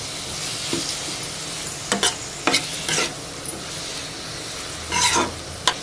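Tomatoes go into a pan where onion and curry leaves are frying, giving a soft sizzle with a few bursts of stirring and scraping and a louder clatter near the end, without any talk.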